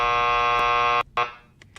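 A loud, harsh electronic buzzer sounds one long continuous blast of about a second. It cuts off abruptly, then a brief second burst and a few faint clicks follow.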